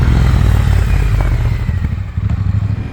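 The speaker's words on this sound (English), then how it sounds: "They also made the crackles and pops under engine braking much more pronounced." A Triumph Speed Twin 1200 fitted with Akrapovic slip-on exhausts rumbles loud and close while engine braking, its deep exhaust note broken by irregular crackles and pops.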